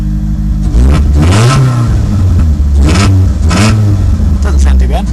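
A car engine warming up, heard through its muffler, revving repeatedly in loud surges that rise and fall against a steady idle rumble, close to the microphone.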